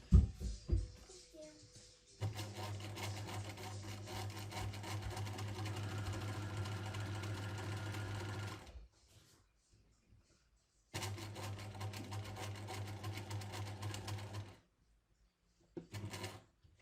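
Sewing machine stitching a shirt placket, running steadily for several seconds, pausing, then running again, with a few brief handling clicks around the runs.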